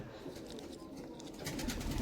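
Pigeons coo softly in the background, a low, steady murmur that grows slightly louder toward the end.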